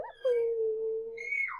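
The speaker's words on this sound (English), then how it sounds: "to whimper means to cry in a soft voice or in a quiet voice" A dog lets out a single drawn-out whimper, a thin, steady whine that rises into a higher cry at the end, close and moderately quiet with no other sound.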